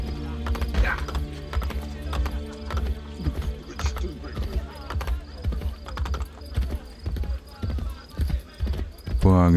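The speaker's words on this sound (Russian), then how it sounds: "Ну, это, скорее всего, лошадку возьмем." Horse galloping in the video game Assassin's Creed Brotherhood, a steady run of loud, close hoofbeats carrying through the whole stretch with a brief whinny near the start, set over game music.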